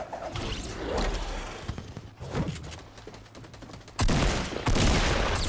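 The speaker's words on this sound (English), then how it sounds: "I hit him on the heavy shotgun" Heavy shotgun gunfire in the Fortnite video game, with rapid bursts of close, loud shots and crackling impacts over dense game noise, growing heavier toward the end.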